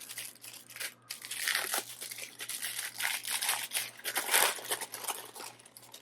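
Lightsaber packaging being cut open and unwrapped close by, with steady crinkling and tearing of plastic and cardboard, moderately quiet, no talking.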